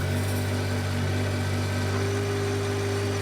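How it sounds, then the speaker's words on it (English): A John Deere 1025R compact tractor with backhoe runs at a steady, high throttle, a constant droning engine hum with mechanical vibration and no pauses, close and fairly loud. "So the engine doesn't have to scream to be able to get sufficient flow to do the job."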